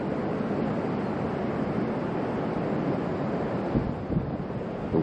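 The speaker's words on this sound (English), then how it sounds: "can you hear that wind?" Strong storm wind roars over a microphone outdoors near a cabin in Ohio, a dense, continuous rumbling gusty buffet that swells and dips slightly, with no voices.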